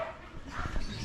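Dog barking at a house, a brief yip or bark near the end of a short stretch of background noise, moderately close.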